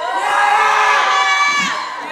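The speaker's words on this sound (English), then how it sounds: "Give her a round of applause." Young crowd at a student ministry gathering breaks into a brief, loud burst of cheering and shouting that holds steady for a couple of seconds and then tapers off.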